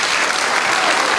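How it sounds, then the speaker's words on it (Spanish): Audience applause at a mayor's public accounts ceremony in San Carlos, a dense, even burst of clapping that lasts about a second with no talk over it. "Un aplauso para todos ellos"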